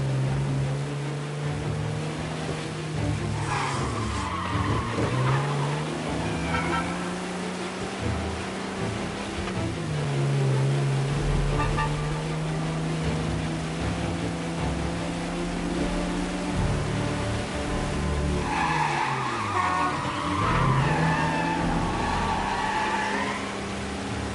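Car engines rev and tires screech in Mafia Definitive Edition as a car skids in the rain and crashes, with rising and falling engine whine and two bursts of noisy scraping. The sound is moderately faint and has no voices.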